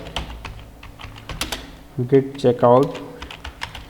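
Quick, light clicks of typing a git command on a computer keyboard in a branch tutorial, with someone speaking over the keystrokes partway through.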